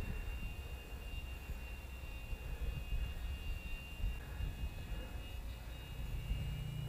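A twin-engine RC Lidl glider flies with a steady, continuous motor drone and high whine persisting throughout, heard outdoors amid broadband wind rumble.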